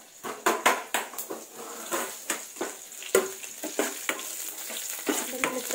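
Garlic fries in a pan for a stingray fish curry, heard as a crackling sizzle broken by repeated rhythmic spoon stirs and scrapes against the pan, close and fairly loud.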